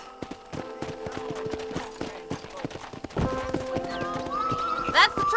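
Horses in Red Dead Redemption trot with a steady rapid clip-clop of hooves, joined near the end by a loud, rising whinny, while people converse over the hoofbeats.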